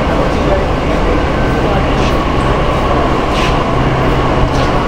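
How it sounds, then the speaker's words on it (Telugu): Delhi metro trains on the Yellow Line come into the station one after another with a loud, continuous rumble and rolling noise, with a voice speaking over it. "బ్యాక్ టు బ్యాక్ మెట్రోలు వస్తూనే ఉంటాయి అన్నమాట."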